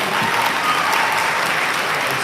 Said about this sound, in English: Let's get a loud round of applause for Flex Lear.